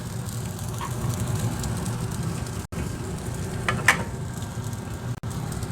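Crispy Thai rice sizzles and crackles in a hot pan, a dense steady frying hiss with occasional sharper pops and brief clatters.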